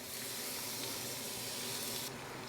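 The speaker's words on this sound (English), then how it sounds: "Now we're going to put this in a frying pan with no oil." Chicken pieces sizzle and hiss steadily in a very hot, dry frying pan with no oil, a soft, even crackle with no talk over it.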